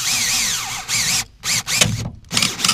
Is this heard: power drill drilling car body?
yes